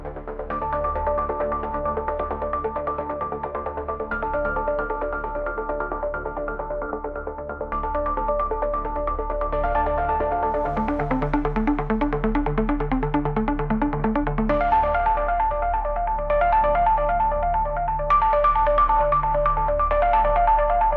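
A telephone rings on a radio call-in show as a loud, steady electronic ringtone, a repeating melodic pattern that carries on unbroken for about twenty seconds.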